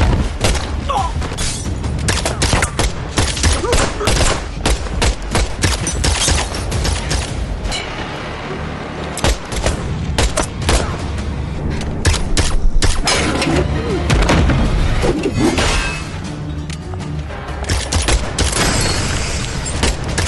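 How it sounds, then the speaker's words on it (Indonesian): Dense, loud gunfire from a film shootout inside a restaurant pounds on without pause, rapid shots layered with booms, thuds and mechanical clatter in a cluttered movie mix. "Baku tembak pun terjadi di rumah makan itu"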